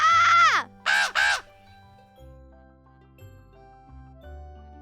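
A crow caws three times, one long harsh call then two quick ones, loud and close, followed by a soft low tonal backdrop.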